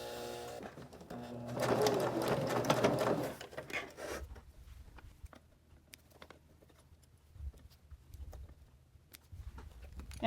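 A sewing machine runs in a loud, steady burst of stitching on a small fabric lip balm keychain holder, then cuts off, leaving only faint scattered taps and handling noises afterward.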